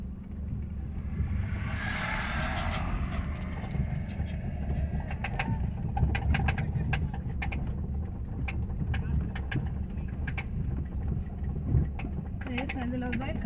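A vehicle engine runs while driving, holding a steady low rumble throughout, with voices talking over it and a few brief rattles and clicks.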